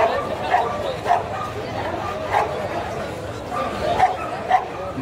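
A dog barks at a Friday dog market, letting out repeated mid-pitched woofs and yips at an uneven rhythm. The barks sit under people talking nearby amid a busy market background.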